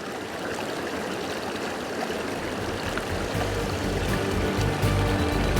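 River water tumbling down over rocks in Glen Etive, a steady, close rushing and splashing that holds even throughout.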